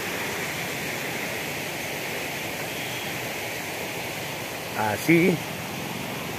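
A rain-swollen creek, the Guarruz ravine beside a tank, rushes in a steady broadband roar; a voice speaks briefly near the end.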